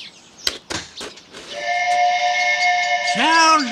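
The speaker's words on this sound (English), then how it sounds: "That, my lad, was a steamboat whistle." In a radio drama, a loud, sustained river steamboat whistle sounds for about two seconds with rich harmonic tones, then a deeper sliding blast follows, after a few brief knocks.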